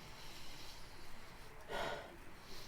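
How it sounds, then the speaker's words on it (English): A single breathy sniff, quiet and close, rising out of a soft hissy background with no speech. "I can sit here just sniffing this all day"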